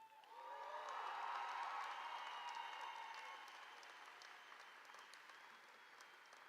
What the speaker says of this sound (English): And another quick round of applause for these 2.